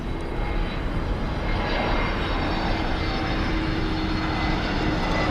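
An American Airlines Airbus airliner flying in from Seattle toward DFW Airport, a loud, steady jet engine roar that holds constant throughout.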